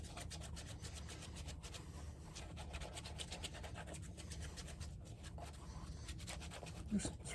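Conditioner is rubbed into alligator leather shoe uppers in quick, rhythmic strokes, giving a soft, close scratching and swishing texture over a faint background hum.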